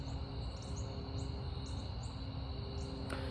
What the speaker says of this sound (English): You'll hear birds chirping.